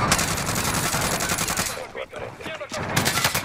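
A turret machine gun in a video game fires in rapid, loud, continuous bursts, with a brief lull in the middle before the dense rattling resumes, and faint voices beneath it.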